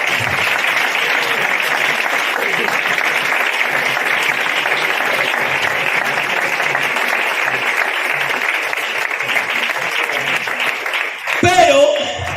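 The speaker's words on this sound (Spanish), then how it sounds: "Fuerte el aplauso para el Señor." Sustained loud applause from a congregation at a church service, a dense continuous wash of clapping for about eleven seconds before it breaks off into a voice and noise.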